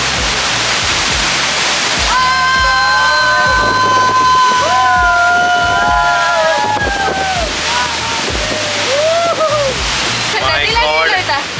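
Rhine Falls roars close by as a loud, constant wash of crashing water, with people talking and exclaiming over it throughout.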